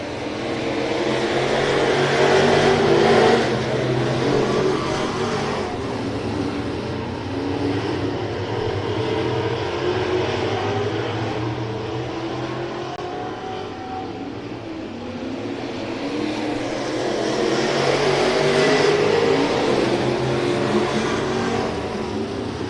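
Stock cars race side by side at Hibbing Speedway during weekly racing, a loud continuous engine roar that swells as cars pass near, around three and nineteen seconds, and eases between passes, with no voices.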